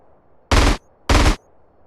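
Two loud, short bursts of automatic gunfire from GTA San Andreas, played with the Rainbomizer mod, each lasting about a quarter second and separated by a brief pause.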